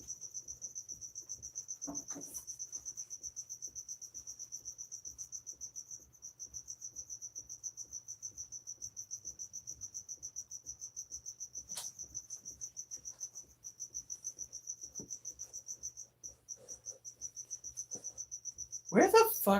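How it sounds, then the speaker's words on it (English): Crickets chirp in a fast, continuous high trill with a steady pulsing rhythm, fairly close, and a few brief knocks and a short rustle near the end. "those crickets are going about a mile a minute with their chirping"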